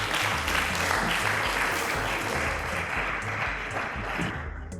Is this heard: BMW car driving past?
no